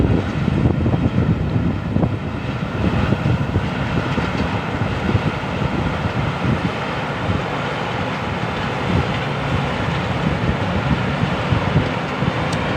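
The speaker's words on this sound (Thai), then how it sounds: "เสียงเครื่องนี้นิ่มมากครับพี่น้อง" An engine runs steadily with a loud, continuous, smooth drone, mixed with rushing wind noise and no speech.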